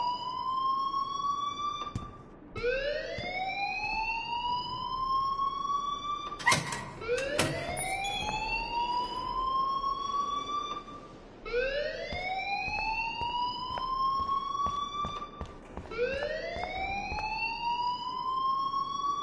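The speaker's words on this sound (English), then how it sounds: "please turn off that alarm since that's your job" A fire alarm in the Life is Strange video game blares a rising electronic whoop over and over at a steady pace, with a few sharp clanks in between.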